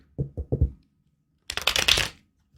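Large cat-themed tarot cards being shuffled up close: a few soft taps, a short pause, then a quick crisp riffle of cards.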